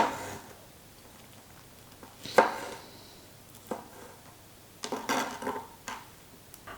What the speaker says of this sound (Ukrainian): Ріжемо полуницю